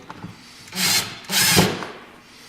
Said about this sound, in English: I pre-drill the holes